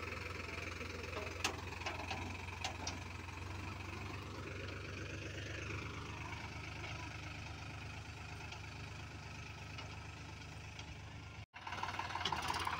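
A Sonalika 35 RX tractor engine runs steadily while pulling a fully loaded trolley, a continuous low drone at moderate distance with a few faint clicks and a brief cut near the end.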